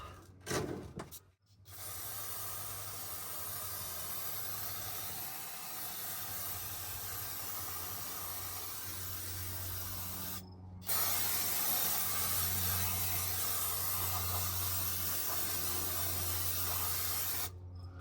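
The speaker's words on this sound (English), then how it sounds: "I'm gonna give it a little shot with the brake cleaner" Brake cleaner spray hisses in long, loud continuous bursts onto a Ram 2500 6.4 HEMI rear differential, with a brief pause before a second sustained blast; no talking.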